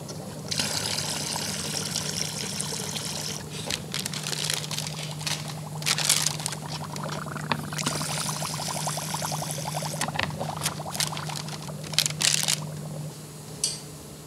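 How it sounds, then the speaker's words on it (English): A hose waters soybean plants in a grow setup, with continuous spraying and splashing across the leaves, occasional louder gushes and a low steady hum underneath. "Plants, just like us, need water. So over time, they suck up the water and we need to replace some of it. So I will do that with a hose."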